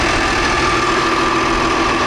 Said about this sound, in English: We got the dozer.